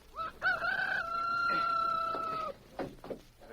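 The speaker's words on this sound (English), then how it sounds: "It's my rooster. I hear him crowing." A rooster crows once in a long, drawn-out cock-a-doodle-doo, clear and fairly close, followed by a few softer clucks.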